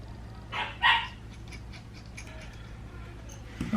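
A pet dog gives a short burst of two or three agitated barks, moderately near, against a quiet room with a steady low hum, followed by a faint clatter near the end.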